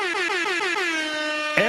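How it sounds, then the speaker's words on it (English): Air horn sound effect blaring as a loud, sustained, brassy honk that wavers and dips slightly before a sharp fresh blast at the end, with no talking. "Let's give air horns for the defense."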